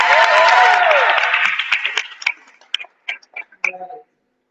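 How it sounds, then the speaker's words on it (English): A meeting audience claps for team members, a brief dense burst that dies away after two seconds into a few scattered, separate claps before falling silent. "Let's give them a big round of applause."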